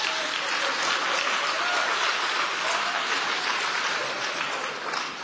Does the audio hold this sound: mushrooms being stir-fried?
no